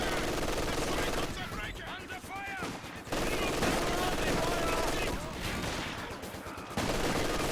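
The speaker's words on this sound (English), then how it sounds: "Vickers working on that MG from long range, and this Vickers does quite a lot of damage with that very long burst duration" A Vickers machine gun in Company of Heroes 2 fires long rattling bursts amid other battle gunfire, loud and continuous with brief lulls, under a commentator talking.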